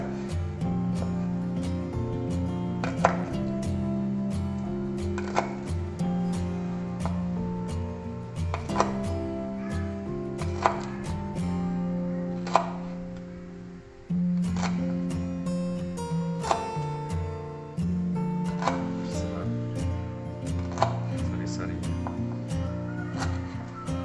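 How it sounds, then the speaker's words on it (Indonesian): Lemongrass is chopped into small pieces on a board, with sharp knife strikes landing in uneven bursts over a steady background hum, loud and close throughout. "Serainya kita potong kecil biar lebih mudah."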